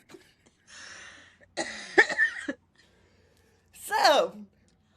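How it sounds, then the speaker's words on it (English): Several harsh coughing bursts from one person, spaced apart over a few seconds, close and fairly loud, with smoky air around. "I had to cough that whole time"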